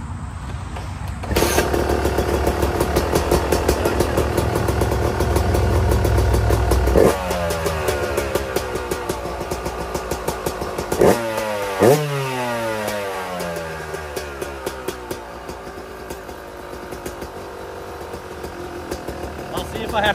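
A 2019 Yamaha YZ 250X two-stroke dirt bike fitted with new jetting kick-starts on the first kick and runs loud and close, settling to a crackling idle between several sharp throttle blips.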